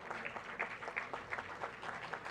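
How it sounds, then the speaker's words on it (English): A crowd at a formal leaders' dialogue on green and digital maritime corridors gives a hearty round of applause for dignitaries, steady dense clapping that fills the room without a break. "Let's have a huge round of applause for our esteemed dignitaries here."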